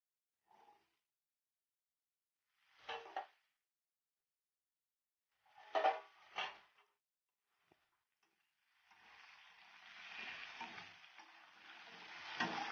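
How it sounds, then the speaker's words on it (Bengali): Potato pieces frying in a pan after cumin, scattered stirring scrapes early on, then a rising steady sizzle that grows louder toward the end, with no talk. "এবার ভালো করে লাল লাল করে ভেজে নেব।"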